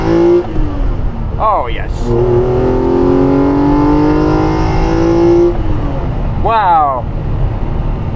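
A BMW M1 engine of 280 horsepower revs hard at full throttle, rising in pitch through gears and roaring loudly up close, while a person exclaims briefly over it.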